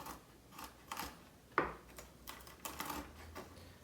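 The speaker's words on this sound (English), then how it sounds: "we are going to chop up our hazelnuts. And we don't want to chop them up too fine" Hazelnuts being chopped into large chunks with a knife, a few faint scattered crisp cuts and taps, one sharper click in the middle, quiet and close.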